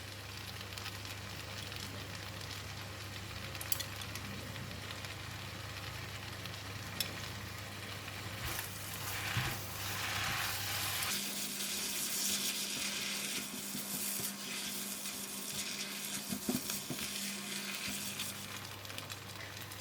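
Kuey teow sizzles in a hot wok after light soy, oyster and dark soy sauce go in, a steady close frying hiss with occasional scrapes and stirring clatter, no talk.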